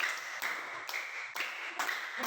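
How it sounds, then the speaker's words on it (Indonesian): Children clap their hands together in a group, five sharp claps in a steady rhythm, close and fairly loud with no talking over them. "Tepuk lagi lima."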